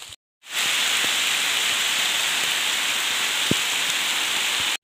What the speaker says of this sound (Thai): ฝนกระตุกพี่น้องตอนนี้